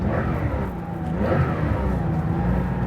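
1975 Porsche 911 Carrera pulling hard through short gears, engine pitch climbing then dipping at a quick shift before rising again, heard close from inside the car.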